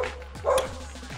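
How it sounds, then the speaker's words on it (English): Kai, a dog, barks at another dog in a few sharp, close barks with a short yelp, separated by brief pauses. "That's Kai barking at another dog."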